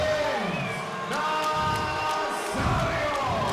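An MMA arena crowd reacts to a first-round TKO stoppage by strikes with a loud, sustained mass of voices, mixing shouts and jeers with a few whoops rising above the roar.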